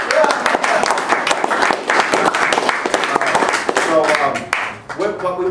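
Audience clapping at a talk, a dense patter of hands over a sustained stretch, with voices and cheers mixed in and a brief dip near the end.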